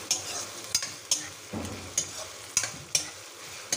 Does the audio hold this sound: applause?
no